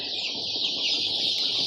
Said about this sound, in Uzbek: jo'jalarimiz xudo xolisa Andijon qora jo'jalari 12 kun bo'ldi